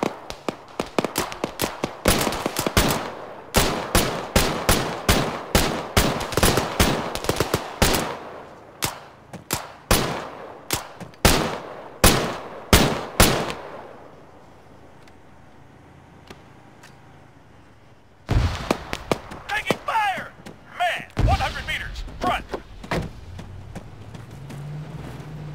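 Gunfire in the military shooter ArmA 3 comes as a long series of loud, sharp rifle shots fired in quick rhythmic bursts. A quiet pause follows, then another close volley of shots and clatter.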